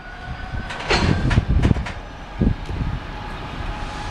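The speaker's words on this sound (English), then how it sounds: "And another freight. That's 4 freights here at Rugby." A freight train passing at Rugby, a rumbling rolling roar with a few clanking wagon thumps, moderately close, swelling and then easing off.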